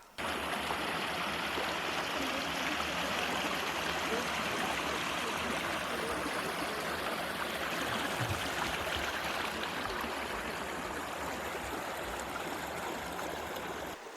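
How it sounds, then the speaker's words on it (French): A stream flows steadily through the Domaine de Chevetogne park in Belgium, its water rushing and trickling in a constant, even wash that stays moderately loud and unbroken throughout. "tu dois te poser, écouter l'eau, ça c'est zen et méditer"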